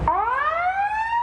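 An ambulance siren on a run to a migrant shelter sounds loud and close, a single rising wail that climbs steadily in pitch over about a second.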